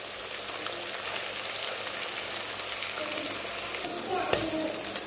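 Fish and curry leaves fry in hot oil for a fish fry, giving a steady dense sizzle with a brief stirring clatter near the end, close and fairly loud throughout.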